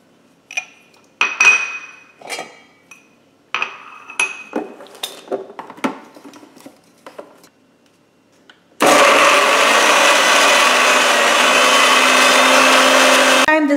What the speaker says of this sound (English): I'm just going to go ahead and blend them extremely smooth